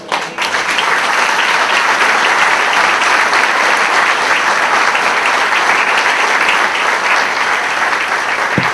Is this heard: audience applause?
yes